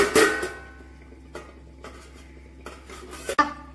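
A metal lid is lifted off a kadai of chicken curry after slow cooking on low heat, a sharp clank followed by faint scrapes and a second clatter of metal cookware, with no talking.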